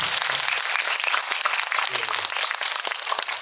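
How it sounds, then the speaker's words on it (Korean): An audience at a Korean film screening Q&A claps together in a dense, continuous burst of applause that holds steady throughout. "박수 한번 부탁드립니다."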